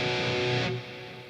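A thick, saturated electric guitar tone rings out loud, then cuts to a quieter sustained tail partway through.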